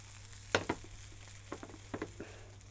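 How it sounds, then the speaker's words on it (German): Kale sautéing briefly in a hot pan, with a few sharp sizzling bursts and stirring clatters over a low steady hum, close by and with no talk. "kurz anbraten."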